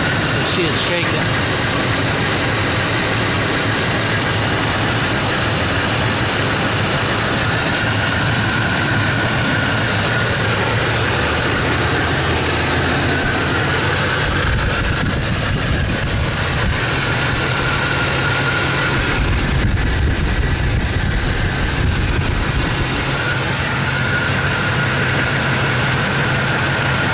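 A car engine idles roughly with cylinders misfiring, shaking with an uneven, lumpy low rumble that runs steadily and close throughout, with brief talk over it.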